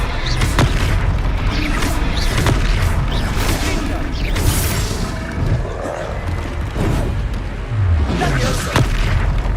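A Confringo fire spell in the Hogwarts Legacy video game lands among repeated booming blasts and crashing combat effects, loud and dense throughout the battle with game voices over it.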